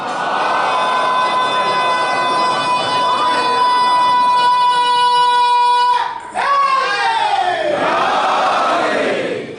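A large crowd at a Shia religious lecture chants slogans loudly in unison, with sustained voices that break off briefly near the end before a rising, swelling final chant.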